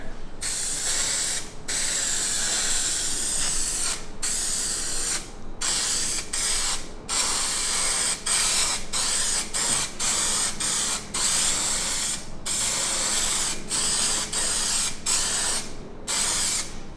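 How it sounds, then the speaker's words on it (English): Repeated hissing bursts from a spray can of contact cement, each lasting a second or two with brief gaps between, close and loud. "We're going to spray the saddle as well and let this dry."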